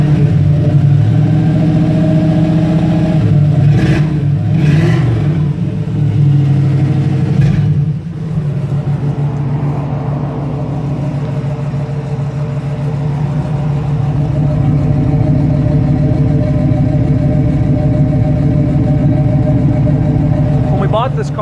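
A 1966 Chevy II 100 engine idles and revs nearby, loud and steady, with a few throttle blips early on before settling into a continuous running drone.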